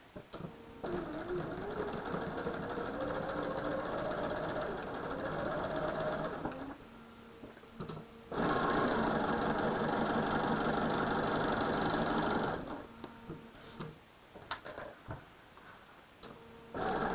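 A sewing machine stitches quilt blocks together, pine tree and peppermint holiday blocks, running in long steady whirring bursts broken by brief pauses before starting up again.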